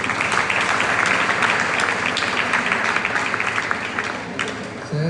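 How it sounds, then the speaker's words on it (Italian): A church congregation gathered for a catechesis on the Eucharist bursts into sustained applause, a dense crackle of many hands clapping steadily for about five seconds before tapering off. "Un applauso."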